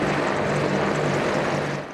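F-5 fighter jets flying in formation over a National Day parade, a loud, steady broadband roar passing close overhead for about two seconds, easing slightly at the end.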